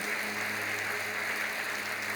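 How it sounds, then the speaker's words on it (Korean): Church congregation applauding to welcome newcomers at a service, a steady, even wash of clapping from a crowded room with a constant low hum beneath, with no talking. "여러분께 박수로 환영하시지요"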